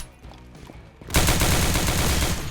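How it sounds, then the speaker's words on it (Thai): Rapid gunfire in the online shooter CS:GO Roblox bursts in at full volume after a quieter opening and keeps going as a dense, sustained barrage for the rest of the stretch. "ผมโดนใครยิงวะ"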